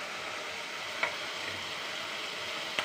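Curry leaves going into a simmering fish curry made with coconut milk give off a steady, close sizzling hiss with a couple of faint pops, and no one speaks.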